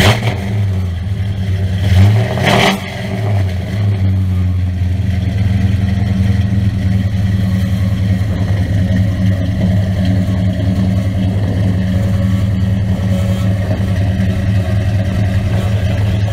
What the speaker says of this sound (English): What do you say we start it up?